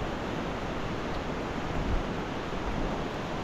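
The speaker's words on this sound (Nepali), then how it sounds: "र यो चाहिँ जगतनिरको खोला हो" A river near Jagat village in northern Gorkha rushes steadily, a dense, unbroken roar of flowing water that holds constant for the whole stretch with no voices.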